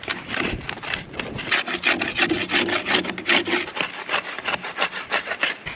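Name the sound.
sharpening the edge of bamboo for fire making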